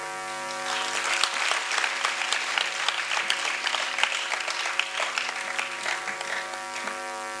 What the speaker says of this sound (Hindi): ये नाटक मंडली नहीं है, आप तालियां बजा रहे हो,